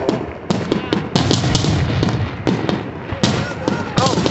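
Fourth of July fireworks bursting in a rapid string of loud, close booms and crackles, with excited voices reacting throughout.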